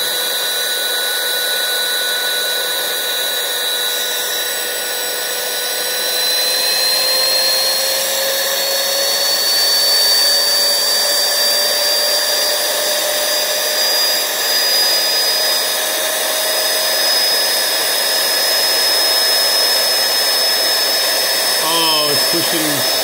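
A small Tesla turbine spins up while being pumped, giving a steady loud whine with rising tonal lines over a constant airy rush, close and continuous with no break.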